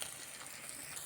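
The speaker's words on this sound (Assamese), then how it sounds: "মাংস ভজা হৈছে প্ৰায়খিনি, দেখিছেনে? এয়া মাংসখিনি তেল এৰিছে।" Meat frying in oil in a pan, a continuous close hiss and crackle of fine sizzling spread evenly across the moment, with no speech.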